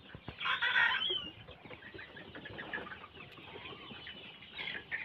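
A flock of 42-day-old broiler chickens, hens and roosters, clucking and chattering, with one louder squawk near the start over a busy barn murmur of many birds.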